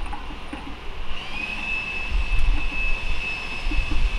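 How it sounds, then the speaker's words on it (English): Vacuum cleaner running steadily nearby with a sustained high whine that rises and holds, over a low rumbling background, no talking. "What is it doing now? Vacuuming?"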